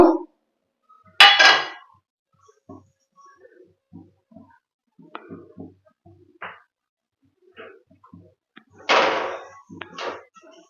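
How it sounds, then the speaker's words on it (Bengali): A spatula knocks against a wok in a few sharp metallic clinks and scrapes while dried kasuri methi is stirred, with quiet pauses between the strokes. "কষারি মেথিগুলো একটু কড়াইতে নেড়ে নেব"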